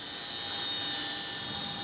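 A helicopter in flight over villages in Pakistan gives a steady, loud engine and rotor whine with a high turbine tone, unbroken and close.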